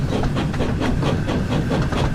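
Train from the Thomas and Friends: Wonders of Sodor video game rolling backward, a steady rumbling chug with a soft rhythmic clack and hiss, continuous and fairly loud.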